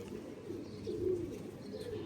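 A Sialkot-type kabutar pigeon gives a low, soft coo, a brief rolling call near the middle, heard close against a steady background hum.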